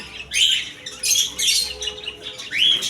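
Cockatiels, albino and lutino, call inside a Kashinathpur bird shop with a handful of sharp rising squawks and chirps, loud and near, separated by short gaps.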